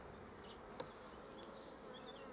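Soft, steady buzzing of honey bees, a low continuous hum with a few brief insect passes close by.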